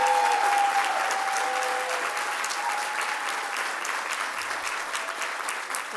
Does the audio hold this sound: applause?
yes